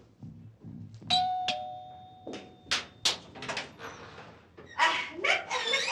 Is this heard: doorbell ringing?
yes